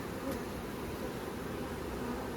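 Dense, steady buzzing of many honey bees in an opened hive in winter, a close, continuous hum with no voices.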